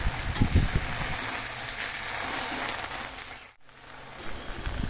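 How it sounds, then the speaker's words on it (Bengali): Taro leaves frying in a pan as they are stirred and flipped: a dense, rain-like sizzle throughout, with a few louder scrapes near the start and a brief dip near the end, close and with no talking. "ঢাকনাটা উঠিয়ে এবার একটু নাড়াচাড়া করতে থাকবো। তার মানে এপিট ওপিট করে একটু উল্টিয়ে দিতে হবে।"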